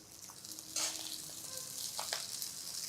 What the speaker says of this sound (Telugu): ఈ బియ్యాన్ని ఇందులో పోసేసి వేయించుకోవాలి